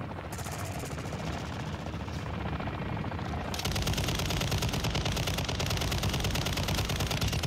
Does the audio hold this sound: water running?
no